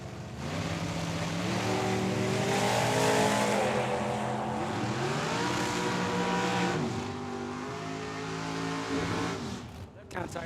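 A Mustang drag racing down the strip at Tucson Dragway roars hard through several rising gear pulls, loud and sustained at first, then fading into the distance as an announcer talks over it.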